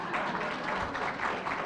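Audience applause at a city district community meeting, a steady wash of many hands clapping at close range for under two seconds, with faint voices mixed in.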